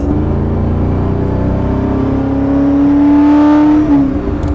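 An original Maserati Ghibli engine revs loud and close, its pitch climbing steadily, then briefly easing back near the end, with no voices.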